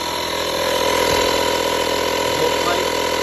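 Vaclife portable air compressor running off a car's cigarette lighter to inflate a tire, a loud continuous mechanical droning buzz with rattly pulsing, steady throughout, close by.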